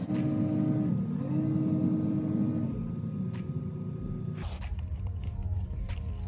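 A small ATV engine drones and rumbles steadily, shifting pitch as it revs, then idles lower with a few sharp knocks and clatters nearby.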